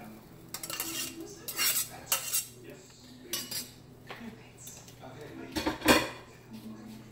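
Smoked turkey neck, bones and red peas going into a metal cooking pot for chicken stew, with a run of clattering clinks and knocks of utensil against pot, several sharp bursts spread over a few seconds.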